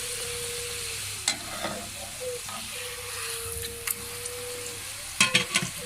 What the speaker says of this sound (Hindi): ऑयल में डालते ही हमारी पूरी कैसे फूलने लग गई है।